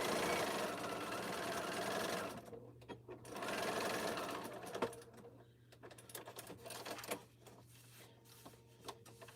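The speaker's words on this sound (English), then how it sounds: "So this part I'm going to stitch like 3/8 of an inch." A sewing machine stitches the seam of a bag lining, a steady close whir for the first two seconds, then another burst around three seconds, followed by quieter clicks and handling sounds.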